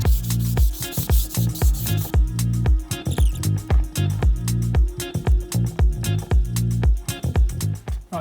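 Fine 240-grit sandpaper is rubbed by hand across a wooden cabinet door panel in quick, regular back-and-forth strokes, close and fairly loud, with about two dozen scratchy passes.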